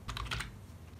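Quick keystrokes on a computer keyboard, a short cluster of close, crisp clicks that then stop.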